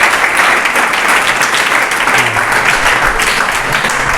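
Loud, steady applause from a class at a monthly test result announcement, continuous dense clapping throughout.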